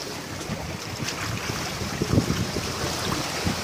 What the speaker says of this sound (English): how water enters these triangle structures